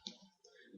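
Quiet, close computer mouse clicks in an Excel spreadsheet: a sharp click at the start and a fainter one shortly after.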